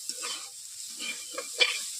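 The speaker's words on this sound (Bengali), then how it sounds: "এভাবে নেড়ে নিচ্ছি বিনসগুলোকে।" Green beans being stirred in a frying pan give soft scraping strokes over a light hiss of sizzling oil, a few close stirs in a row.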